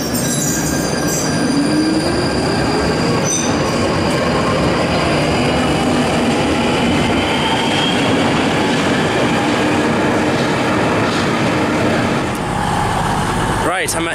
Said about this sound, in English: Right, I'm at Euston Station.